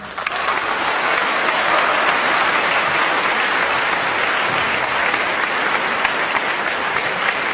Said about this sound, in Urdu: بھرپور تالیوں میں استقبال کیجیے جناب عمیر نجمی.